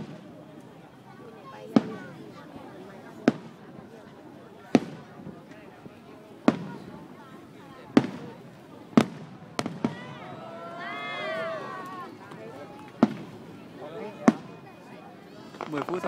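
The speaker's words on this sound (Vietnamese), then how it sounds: "Đây kiểu như là pháo hoa liễu ấy nhỉ?" Willow fireworks burst at New Year's Eve celebrations in Vietnam, a series of loud sharp booms spaced a second or two apart with crackling between them, while people chatter nearby.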